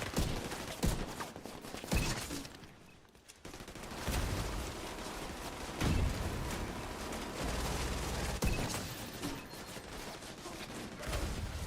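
Dense bursts of automatic gunfire in The Division 2, rapid crackling volleys with short gaps, loud and continuous across the whole stretch, no voices over it.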